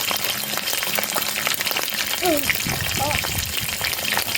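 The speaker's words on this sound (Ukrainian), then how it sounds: "Обсмажуємо наш бекончик." Bacon frying in a pan over steady, dense sizzling with spattering crackle throughout, stirring noises on top, and a voice talking underneath.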